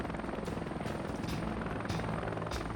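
A helicopter in the video game Heliborne, a small Chinook-like transport, drones steadily with a dense rotor thrum and beating pulses, loud and continuous with no talking.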